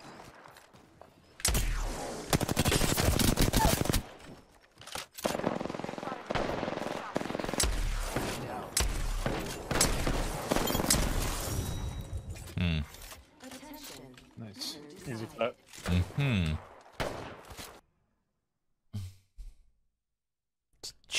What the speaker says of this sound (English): Enemies are shooting at me.